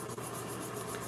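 Electric nail drill fitted with a safety bit files nails in a steady, continuous whirring rub at close range, unbroken and without speech for about a second.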